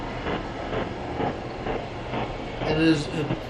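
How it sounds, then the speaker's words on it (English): A Long Island Rail Road train rolls past, its wheels clattering in a regular rhythm at moderate distance, with a squeal near the end and talk over it. "that's the Long Island Railroad you're hearing"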